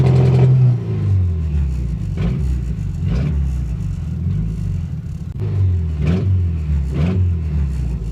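Custom twin-turbo Honda Integra on launch control, engine held and revved in repeated surging bursts near 3900 rpm, loud and close, each rev rising and falling in a rough rhythm.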